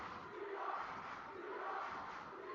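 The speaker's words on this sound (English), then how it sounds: "Crowd getting into it now" A high school basketball crowd roars during a senior-night varsity game, a sustained loud wash of cheering and shouting with gentle swells and no distinct voices on top.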